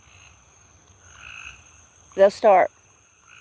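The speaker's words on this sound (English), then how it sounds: "the frogs are here in the pond" Frogs in a garden pond give two loud, close croaks back to back, rising out of a quiet outdoor background with a faint steady hum.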